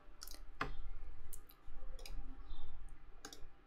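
Computer mouse clicks: several sharp, quiet clicks spaced irregularly over a low background hum, close and isolated with no talking.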